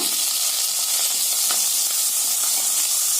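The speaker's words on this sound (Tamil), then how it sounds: "இதையெல்லாம் நல்லா இந்த எண்ணெயில லேசா வதக்கி விடுங்க" Herb leaves, including thuthuvalai, karpooravalli and tulsi, sauté in hot coconut oil with a steady close sizzle and hiss, continuous throughout.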